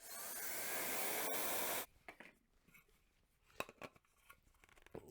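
A Gamma IQ hair dryer with a concentrator nozzle blows a loud, steady rush of air for almost two seconds, then cuts off, leaving faint clicks and handling noises.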